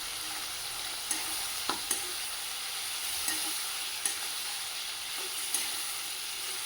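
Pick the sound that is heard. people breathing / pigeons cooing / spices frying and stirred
spices frying and stirred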